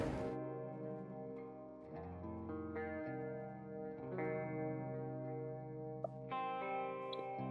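Distorted metalcore guitar riff from an Indonesian track, opening with clean-toned chords before heavy chugging chord changes, loud and continuous with effects-laden tone and no talking.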